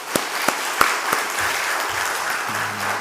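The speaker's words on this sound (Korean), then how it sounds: "우리 박수 한번 해주시죠." Congregation clapping in a Korean church service after a choir performance, a dense steady patter of many hands with a few sharper claps near the start, lasting throughout at moderate distance.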